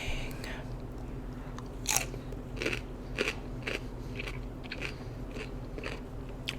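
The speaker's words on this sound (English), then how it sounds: "today I'm having udon noodles and some pork and shrimp dumplings" Close-up eating of udon noodles with pork and shrimp dumplings, irregular wet bites, slurps and soft crunchy chews over a low steady hum, with no talking.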